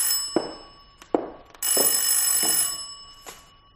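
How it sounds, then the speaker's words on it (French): Telephone bell in a French radio mystery drama rings in several short bursts, fairly close and clear, with a longer sustained ring in the middle and no talk over it. "Allô, commissaire Roland à l'appareil"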